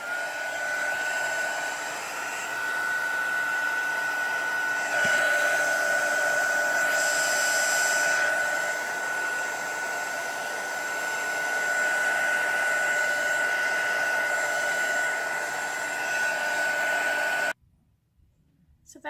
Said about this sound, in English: I'm going to use my heat tool to heat emboss that.